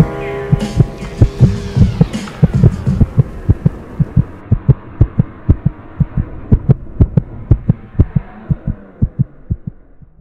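A strong heartbeat thumps in a fast, regular rhythm of about 148 beats per minute, loud and close, over a low droning hum that fades after the first few seconds.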